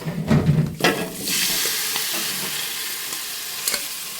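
Cooked raw plantain, boiled with salt, being stirred in a pan: a few scraping strokes at the start, then a steady soft sizzle of frying with a couple of light clinks near the end, no talking.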